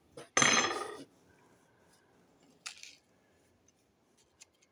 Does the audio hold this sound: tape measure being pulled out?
yes